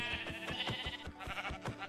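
Sheep bleating in the video game Minecraft, a run of short repeated bleats under a steady layer of game music or ambience.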